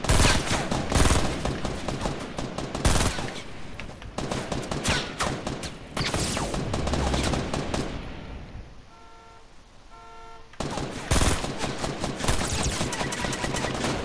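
Heavy Fortnite gunfire: rapid volleys of automatic shots rattle close and loud, break off into a brief quieter lull, then start up again just as dense, with no voices.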